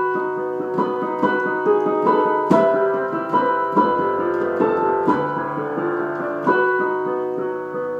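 Solo piano plays the final phrase of a piano solo, a slow, clear sequence of sustained notes and chords with gentle repeated attacks, close and alone without talk.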